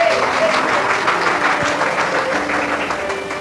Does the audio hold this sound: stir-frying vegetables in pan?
no